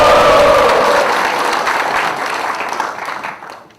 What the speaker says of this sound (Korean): 박수 함성 다시 부탁드려요